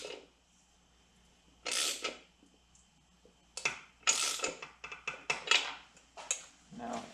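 Socket ratchet with a 5/8 deep well socket on an extension, working near the fork tubes of a Harley Dyna Fat Bob, gives several short bursts of metallic clicking and clanking in quick clusters, close up, with no talk.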